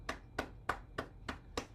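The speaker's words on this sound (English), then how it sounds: "we'll clap our hands now" Hands clap or pat on the body in an exercise routine, six evenly spaced, close, crisp slaps in a steady rhythm at a moderate volume.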